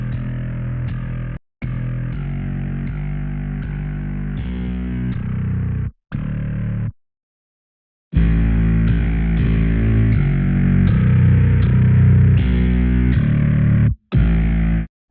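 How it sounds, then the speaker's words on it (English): Heavily distorted, compressed and saturated bass part in a remake of a song, loud and dense, playing in sustained phrases broken by several abrupt short cuts to silence. "he used a combination of compression, saturation and distortion to shape the tone of the grid"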